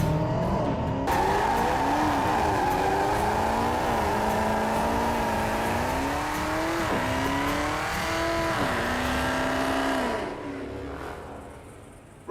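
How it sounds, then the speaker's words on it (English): A Dodge Demon does a tyre burnout for drag racing, its engine roaring loud and close with rising and falling revs over screeching, spinning tyres, fading near the end. "that was just a celebratory burnout"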